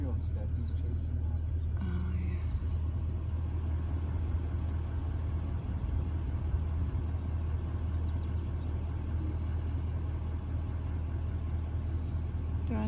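A truck engine idles steadily with a constant low rumble and drone throughout, close and loud inside the cab, out on open range near feral horses.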